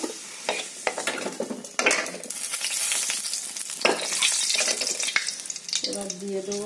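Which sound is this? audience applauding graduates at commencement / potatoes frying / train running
potatoes frying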